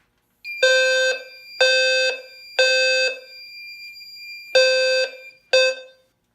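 A Fire-Lite MS-4 fire alarm system's low frequency sounder, set off in a smoke detector test, blares in five loud, close, harsh tonal blasts of about half a second each with short gaps, one longer pause before the last two.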